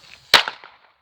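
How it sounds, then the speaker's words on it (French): A single sharp pop of a small firecracker going off nearby, followed by a brief crackle that quickly fades. "c'est que des petits pétards ça"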